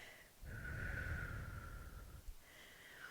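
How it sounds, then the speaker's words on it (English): An instructor breathing deeply in and then exhaling during a prenatal and postnatal core workout, a single long, close, breathy draw of air lasting about two seconds followed by a softer release. "Deep breath in. And exhale."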